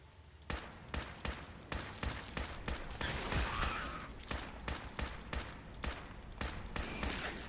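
Steady run of gunshots from a Fallout 4 firefight, a dozen or so sharp reports spaced about half a second apart, loud and close, with no talking over them.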